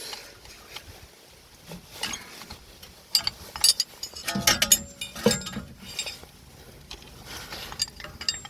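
Metallic clicks and clinks ring out near and irregularly while the front brake caliper of a Skoda Fabia is pushed back by hand without a winding tool, growing busier and louder midway before settling again.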